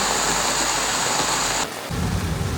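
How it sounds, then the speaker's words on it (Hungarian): Heavy tropical downpour in Borneo roars as a dense, steady wash of rain, close and loud, with low rumbling underneath that shifts partway through. "Itt közben özönvíz lett"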